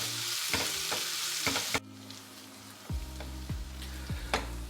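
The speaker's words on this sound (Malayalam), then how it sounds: "ഇത് ഇളക്കിയിട്ട് ഈ സവാള ഒന്ന് ട്രാൻസ്പാരൻ്റ് ആകുന്നത് വരെ" Sliced onions frying and being stirred in a pan, a continuous sizzle broken by repeated spoon scrapes and knocks against the pan, close and fairly loud, no voices.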